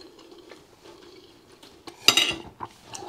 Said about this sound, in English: Excuse the knife on plate.